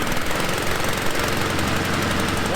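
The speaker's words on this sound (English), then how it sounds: "I can walk away while the engine warms up" Small lawn mower engine idling while it warms up outdoors, a loud, close, rapid chugging with steady knocking pulses running continuously.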